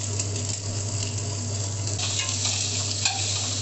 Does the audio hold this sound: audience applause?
no